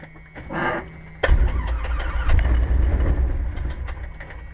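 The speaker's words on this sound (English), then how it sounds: "Now pump the throttle, one whole pump. Now start it." A Cessna 150 piston engine cranks and catches after a brief faint sound, then settles into a loud, close, rough idle rumble.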